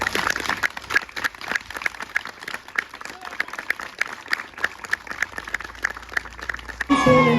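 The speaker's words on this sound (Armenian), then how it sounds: "եկեք մենք բոլորս միասին բուռն ծափահարենք այս աշխատանքին" An audience applauds at a school graduation ceremony. The clapping is steady and sustained across the hall and runs unbroken until a short burst of other sound at the very end.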